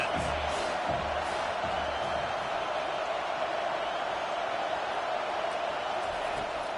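A dense, steady roar of stadium crowd noise at a football game, loud and continuous, with faint scattered shouts and a commentator's voice riding on top.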